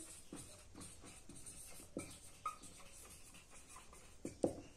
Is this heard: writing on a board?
yes